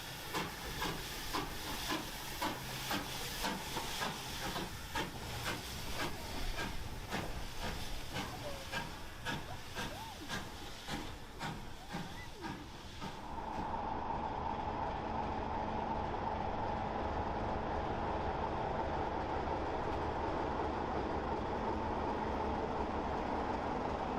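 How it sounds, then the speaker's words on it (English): A Class 812 steam locomotive, number 828, in blue livery hauls British Railways coaches in southern green on the Spa Valley heritage line, giving loud steady hissing and rapid chuffing that shifts partway through into a continuous steam roar with a sustained tone. "Railways Class 812 steam locomotive number 828 in a very impressive blue livery"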